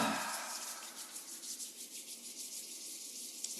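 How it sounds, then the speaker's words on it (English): Palms rubbing together in a steady, continuous brushing friction, close and fairly soft, alone without talk. "Rub the palms together."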